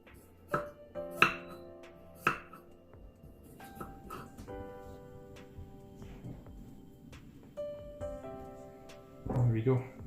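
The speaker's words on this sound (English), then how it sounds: "now the potatoes. And slice them really thin." Knife thinly slicing potatoes on a cutting board, with a series of sharp chopping taps at an uneven pace, close up, as music plays underneath and a voice speaks.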